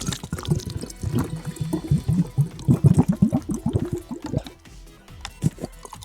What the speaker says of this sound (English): This is the sound of a plastic water bottle being turned upside down and poured